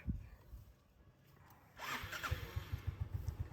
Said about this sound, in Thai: เดี๋ยวสตาร์ทฟังเสียงเครื่องยนต์กันหน่อยนะครับ